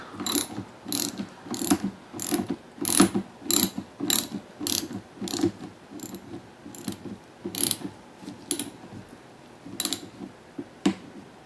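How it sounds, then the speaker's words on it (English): A ratchet with a 12mm socket tightens a bolt on a 1986 Honda VF500F Interceptor motorcycle, giving steady, close, repeated clicking pawl strokes over several seconds, with no one speaking. "12mm socket is handy. And let's do it up."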